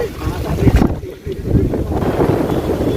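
Gusty wind buffets the microphone in heavy, uneven low rumbles over Nainital lake during light drizzle, loud and continuous with one brief lull.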